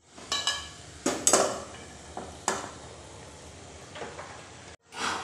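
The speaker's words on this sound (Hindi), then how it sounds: "तो अब हम इसी स्टेज पर डालेंगे भुना हुआ चना दाल" Roasted chana dal and soybean chunks tipped into fried masala in a pan, giving a few sharp clinks and scrapes of a spoon against the pan's metal spaced over a few seconds, then a short louder rustle at the end.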